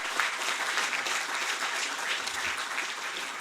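An audience applauds at a ceremony honouring Asian Games medal winners, producing a steady wash of many hands clapping at moderate loudness with no break.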